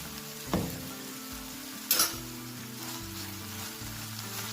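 Onions cooking in a pan for methi matar malai give a steady low sizzle throughout, with two brief louder clinks or stirring scrapes near the start, and no talking.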